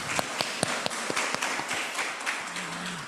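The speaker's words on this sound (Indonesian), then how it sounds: "Boleh tepuk tangannya." Applause from a seminar audience on waste classification, with distinct claps ringing out at a quick rhythm and a brief voice near the end.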